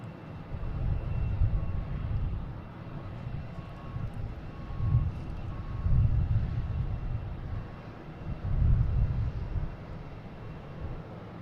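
A Delta Embraer E175 jet at Boston Logan International Airport, a steady low rumble of jet engine noise that swells and fades in broad waves, moderately distant with some wind buffeting and no speech.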